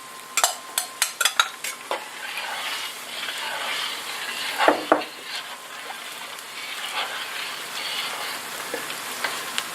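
Banana pepper cheese sauce stirred in a pot over a flame, a run of sharp clinks from the spoon against the pot, then a steady bubbling sizzle with occasional scrapes, close and fairly quiet.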